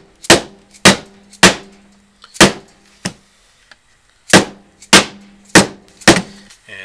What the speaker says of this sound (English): And tap it down in, and then just work your way along, wedging one putty knife after another